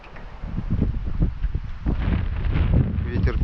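Wind blows steadily across open water on a fishing trip, a constant rushing roar buffeting the microphone close up, with no clear talk.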